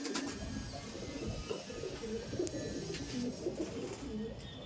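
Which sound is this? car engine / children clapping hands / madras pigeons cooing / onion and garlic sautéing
madras pigeons cooing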